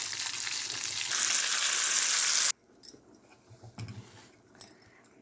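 A tempering of curry leaves and turmeric hits hot oil with a loud, dense sizzle and crackle that swells, then cuts off sharply, followed by quieter stirring clinks and scattered kitchen noises.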